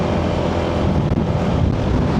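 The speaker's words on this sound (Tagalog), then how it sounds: "Ay, iba na yung hampas ng hangin dito." Strong wind gusts buffet the microphone of a motorcycle, an ADV160 scooter, climbing a cold mountain road in Ilocos Norte, a steady loud roar with no talk.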